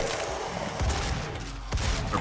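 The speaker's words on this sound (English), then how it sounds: "these guys are annoying with their shotguns" Enemy shotguns fire in the video game Doom (2016). Several loud, close blasts come in quick succession within a dense, noisy game mix.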